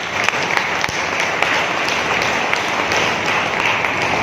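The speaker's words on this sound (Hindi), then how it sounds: "तो इन सभी के लिए एक बार जोरदार तालियां हो जाएंगी" A crowd gives loud, sustained applause at a network marketing pin celebration event in Jind, an even wash of many hands clapping with a few sharper claps standing out, and no speech over it.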